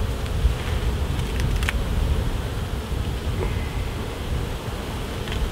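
Honeybees buzz around an open hive during a UK beekeeping inspection, a continuous close drone with individual bees whining past the microphone, wind brushing in the background and no talking.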